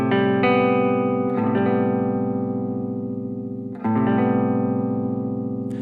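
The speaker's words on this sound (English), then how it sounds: "So this is what the minor 9 sounds like." An electric guitar strums a lush, dark minor ninth chord twice, letting each ring out with reverb-soaked sustain.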